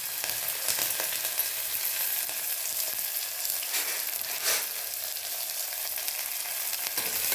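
Onion, curry leaves and green chilli sauté in hot ghee: a continuous dense sizzle and crackle with occasional louder spatters as the pan is stirred, close up and with no talking.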